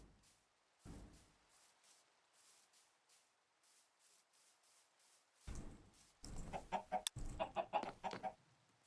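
In the video game Minecraft, a chicken clucks again and again amid soft thumps and rustling, first sparse and faint, then a denser, louder run of clucks toward the end.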